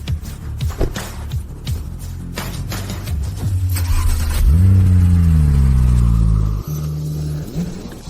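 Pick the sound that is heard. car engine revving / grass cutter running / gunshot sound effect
car engine revving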